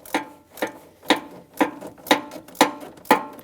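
A ratchet turning a 10 mm Allen socket on the drain plug of a 2003-2009 Dodge Ram 2500 with a 5.7L V8 clicks seven times in an even, loud, close rhythm about every half second.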